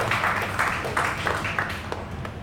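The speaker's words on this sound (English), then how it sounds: "one big round of applause for Dr." Audience applause at an album launch event, a moderate crowd clapping in irregular bursts at a slight distance, fairly faint.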